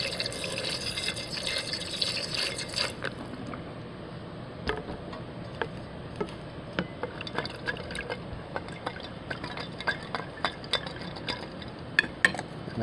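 Distilled water sloshes and trickles in a flask being rinsed during silver refining, a steady wet wash broken by scattered small ticks and clinks of glass, close and moderately loud with no talking.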